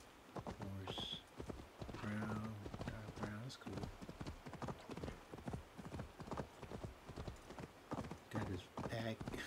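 Horse hooves clip-clop at a steady pace in Assassin's Creed Valhalla, the Viking horse trotting with occasional whinnies and neighs, while someone talks over the rhythmic hoofbeats throughout.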